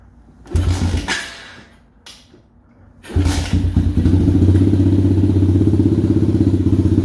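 An X-PRO dirt bike, one with a failing coil and carburetor, kick-started without choke: two kick thumps with a brief sputter, then the engine catches and settles into a loud, close, rapid-firing idle, with no talk.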